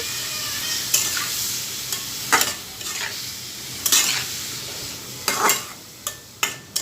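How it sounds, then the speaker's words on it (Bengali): Pointed gourd fries with turmeric in a pan, a constant sizzle broken by repeated loud scraping strokes of a spatula every second or so, close and without talk. "খুব সুন্দর করে কিন্তু আমি নেড়ে চেড়ে দিচ্ছি"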